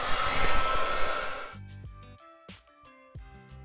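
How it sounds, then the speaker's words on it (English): A heat tool blowing hot air to dry paint on a hand-lettered holiday card, a steady loud whooshing rush for about a second and a half that then cuts off, leaving quieter tonal sounds. "To speed up the drying process, I'm gonna be using this heat tool."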